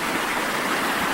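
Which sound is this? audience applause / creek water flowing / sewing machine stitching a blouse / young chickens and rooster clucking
creek water flowing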